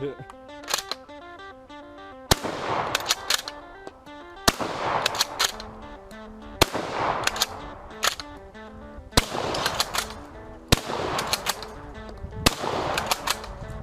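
M44 bolt-action rifle firing outdoors, six sharp loud muzzle blasts spaced roughly two seconds apart, each with a booming decay, over an underlying musical backdrop.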